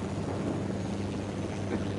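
A cartel helicopter in Ghost Recon Wildlands, a steady low rotor and engine drone holding at moderate distance without pause.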